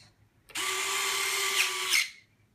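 A small electric motor in RC plane retractable landing gear whirs steadily for about a second and a half, a high mechanical buzz that starts abruptly and stops with a faint click.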